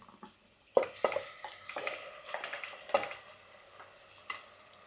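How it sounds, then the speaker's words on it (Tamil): Masala is stirred into crisply sautéed onions in a pan for cauliflower kuzhambu, irregular scraping and metallic clinks of a spoon against the pan over a low sizzle, close and moderately loud, with no talking. "பாருங்கள், வெங்காயத்தை இந்த அளவுக்கு முருகலாக வதக்கிட்டு நம்ம இந்த மசாலாவை அதில் சேர்த்துக்கலாம்"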